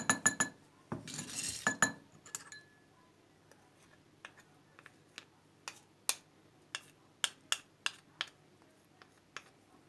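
A spoon stirs aloe vera gel in a glass, giving a dense flurry of clinks at first, then sparse, sharp ticks against the glass spaced irregularly, close and clear in a quiet room.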